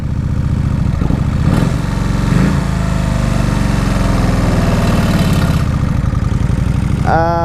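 A 2003 Kawasaki Vulcan VN1600 Classic motorcycle, on old fuel after sitting two years, idles close by with a steady throb that surges and dips in speed a couple of times.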